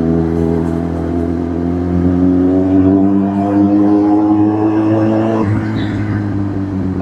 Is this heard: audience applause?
no